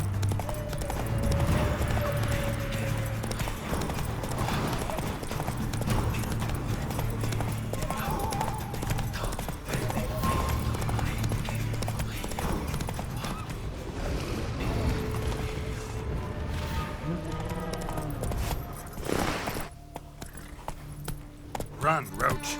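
Roach the horse in The Witcher 3, hooves clip-clopping in a steady galloping rhythm with a neigh and tack jangling, close and loud, while voices speak over it.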